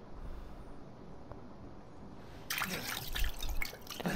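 Liquid pouring and dribbling in Resident Evil 7, a quiet background hiss that gives way, in the second half, to louder splashing trickle and drips.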